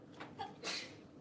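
A single faint sneeze from a student in a classroom, a brief indrawn breath followed by a sharp burst, heard a little way off.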